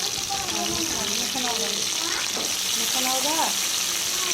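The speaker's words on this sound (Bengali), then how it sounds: "তেল একটু একটু গরম হয়ে আসলে তার মধ্যে দিয়ে দেবো আলু এবং" Potatoes and ash gourd fry in hot mustard oil with dried red chilli, bay leaf and whole cumin, a steady close sizzle running throughout while someone talks over it.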